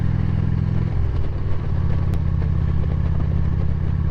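A motorcycle rumbles steadily while riding, its engine loud and close with a low throbbing drone and some clatter, shifting pitch about a second in, with no talk.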